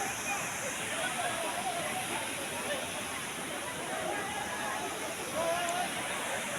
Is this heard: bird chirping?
no